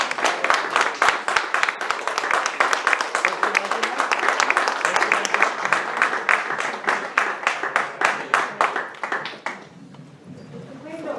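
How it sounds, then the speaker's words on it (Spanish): Audience applause at a poetry evening at the Centro Asturiano, with dense, steady clapping from a crowd that fills most of the clip and then thins to a few scattered claps at the end. "Un aplauso fuerte para él."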